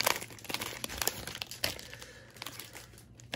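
A Topps Chrome baseball card hanger pack is torn open with loud, close crinkling foil wrapper sounds and sharp tearing bursts in an uneven rhythm.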